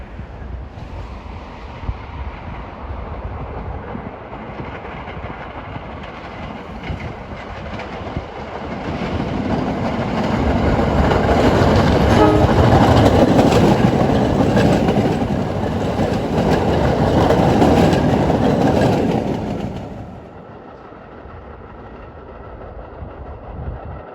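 A Staten Island Railway express train bound for Tottenville runs through a station, its rumble swelling loud and close for about ten seconds with rail clatter and wind, then dropping away to a low background hum.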